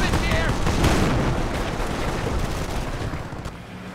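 Dense rattling gunfire and booming explosions fill a Company of Heroes real-time strategy battle, loud and continuous at first, then thinning slightly, with brief unit voice lines mixed in.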